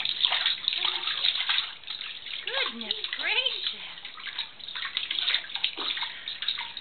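A child splashes around in bath water, with sloshing and watery churning running through the clip as an adult voice talks over it.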